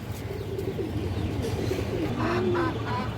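Pigeons coo steadily up close, layered low murmuring calls with a few brighter chirps near the end, sounding like a busy loft of Giribaz pigeons of colouring, high-flyer and Palla lines.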